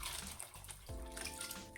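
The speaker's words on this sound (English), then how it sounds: "And then I'm going to put water, make sure it covers" Water pours into a pot of beans for a Congolese one-pot bean stew (madesu). A steady, close gush splashes throughout, and its tone deepens and rings more as the pot fills.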